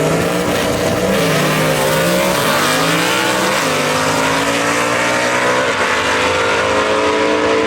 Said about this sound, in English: Good drag race right there,